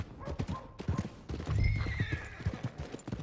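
A horse in the Red Dead Redemption 2 video game gives a loud whinny over a run of quick clip-clopping hoofbeats, with faint background game sound.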